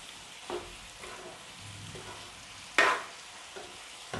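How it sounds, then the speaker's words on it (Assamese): Boiled chickpeas being stirred into chana masala in a pan: a soft steady sizzle with a few scraping strokes of the spoon, one sharp loud scrape near the end, no talk. "মিক্স কৰি দিম মছলাৰ লগত"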